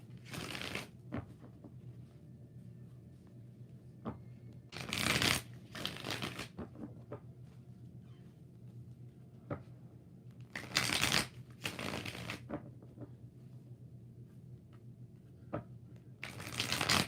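Tarot cards shuffled by hand in bursts of riffling, several separate shuffles spaced across the stretch, close and crisp against a quiet room hum.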